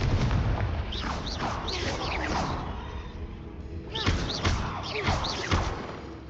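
Confringo fire spell blasts cast in Hogwarts Legacy, a series of punchy thuds and booming impacts in uneven clusters, with a short lull in the middle before more bursts follow.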